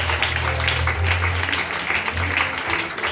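A congregation at a Sunday church service claps and cheers in acclaim of God, a dense, loud, continuous wash of applause filling the room throughout.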